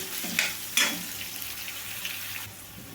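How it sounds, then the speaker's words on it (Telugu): Chopped onions fry on a medium flame in a pan for kurma, giving a soft, steady sizzle broken by a couple of brief stirring scrapes near the start. No one speaks. "మీడియం ఫ్లేమ్లో పెట్టుకొని ఆనియన్ బాగా కలర్ చేంజ్ అయిన దాకా వేయించుకోవాలండి"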